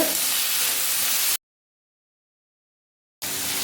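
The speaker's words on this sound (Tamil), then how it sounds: "தக்காளி சேர்த்து நல்லா வதக்கி விடுங்க" Chopped tomato sautés with onions in a pan for arai keerai kootu, giving a steady close sizzle and hiss that cuts out to silence midway and then resumes.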